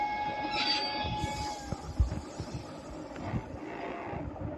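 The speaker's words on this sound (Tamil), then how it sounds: "ஸ்டார்ட் ட்ரெயின் கொடுத்துடலாம் ஸ்டார்ட் ட்ரெயின்" A video game train rumbles and clanks as it gets moving, wheels knocking irregularly under a fading whistle-like tone at the start.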